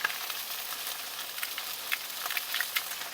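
Frozen ginger pod thawing and sautéing with green beans in a hot pan, giving a steady, close sizzle with scattered small pops and crackles throughout.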